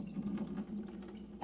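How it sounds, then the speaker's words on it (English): Tap water runs steadily into a sink as a butternut squash is rinsed under it, a continuous close splashing hiss for the whole moment with no talking. "I'm just rinsing out my butternut squash."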